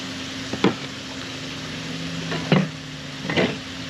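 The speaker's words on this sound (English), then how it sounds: "Sauteing your vegetables and making your smothered sauce." Vegetables sautéing in a pan for a smothered sauce alongside mangrove snapper, a steady soft sizzle with three brief stirring scrapes spaced about a second apart, close and alone without talk.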